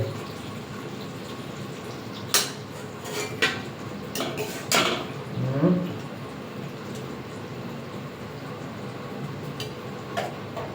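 A metal lid clinks onto a cooking pot on a gas stove just switched off, a few light metallic taps and a small clatter, close and fairly quiet over low room noise.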